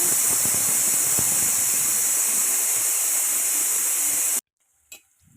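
A pressure cooker holding toor dal and tomato releases a loud, continuous high-pitched steam whistle that cuts off abruptly, followed by a faint clatter.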